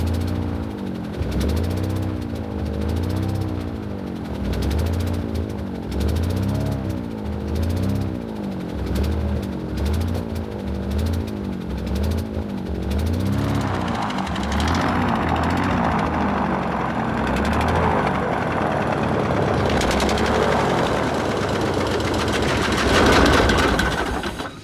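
A small engine sputtering and surging in an uneven, lumpy rhythm in a snowy wilderness, running rough from a carburetor problem, with a louder broadband roar building toward the end.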